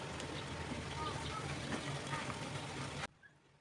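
Chopped onions and green chillies sizzle in hot oil with a dense, crackling hiss that holds steady, then cuts off abruptly near the end, leaving quiet.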